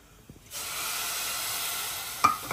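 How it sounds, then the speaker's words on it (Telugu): After a quiet moment, water hits a hot pan of jaggery with a sudden, steady sizzling hiss, followed by a couple of light clinks. "ఒక 6 కప్పు నీళ్ళు వేసుకుందాము."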